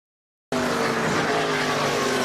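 NASCAR Xfinity Series race cars roar around an oval track into turn 3, a steady loud engine drone that starts abruptly after half a second of silence and holds for the rest.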